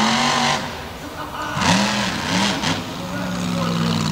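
A monster truck engine revs hard during a wheelie run at an outlaw monster truck drag event, rising and falling in a few surging bursts over a steady background roar.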